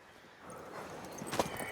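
A mare in The Witcher 3, faint hoof clip-clops on the ground building toward a louder step near the end, no talk.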